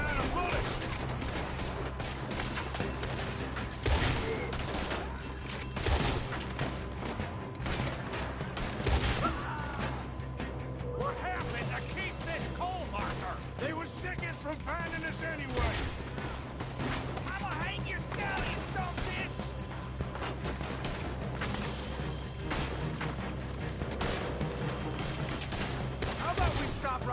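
Gunfire during a robbery shootout in the video game Red Dead Redemption 2, with dense, continuous shots and bangs over a steady bed of game noise and some character voices.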